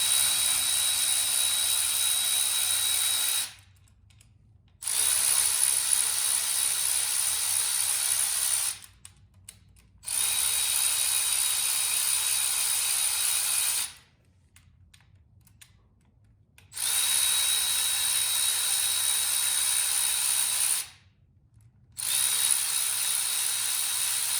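A power tool buzzes in long, steady bursts of several seconds each, separated by short pauses, repeating four or five times, as it removes bolts during clutch spring replacement on a Honda CB750 motorcycle.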